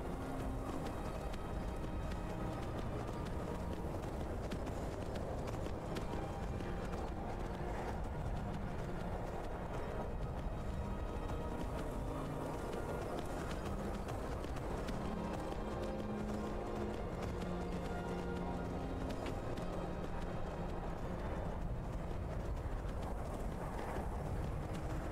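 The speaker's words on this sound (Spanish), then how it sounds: "Hace un montón que no veo al caballo." A horse gallops continuously in the Skyrim video game, a dense, busy stream of hoofbeats under a constant game soundscape with faint low tones throughout, loud and unbroken.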